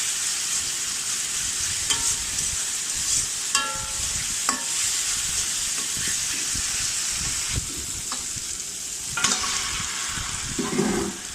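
Tomato, onion, ginger and garlic pastes fry and sizzle in a pan for a Bengali chicken curry. A bright steady hiss fills the pan, with intermittent scraping stirs and a few louder spatula clanks near the end.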